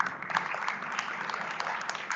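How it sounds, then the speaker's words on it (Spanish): Audience applause for a participant who asked a question at a talk on automotive firmware software, steady moderate clapping from a room-sized crowd. "para nuestro compañero que preguntó."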